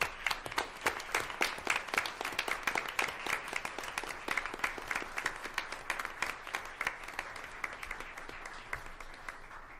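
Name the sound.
audience applause at school board meeting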